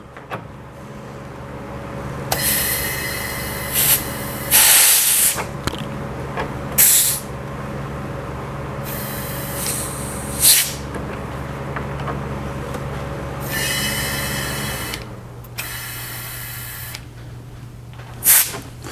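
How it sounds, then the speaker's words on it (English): Air Lift LoadLifter 5000 air suspension bags on a Ram pickup being filled with compressed air for a leak test, several loud hissing bursts of varying length over a steady low engine hum. "Now it's time to put a little air in them"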